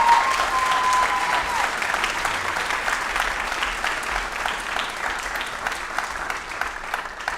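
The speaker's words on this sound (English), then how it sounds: "Can we give them another round of applause?" An audience at a high school fall band concert applauds the percussion soloists. The clapping is steady and continuous, filling the hall throughout, with no music playing.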